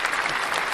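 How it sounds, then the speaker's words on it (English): A crowd bursts into loud, dense applause with cheering, a brief sound effect that sounds steady and close throughout. "The crowd goes wild."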